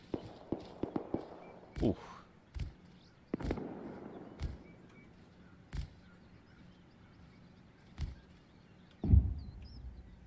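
Gunfire in the survival video game Rust: a handful of sharp, separate reports spaced a few seconds apart, some near and loud, others softer and farther off, with a brief exclamation from a player in between.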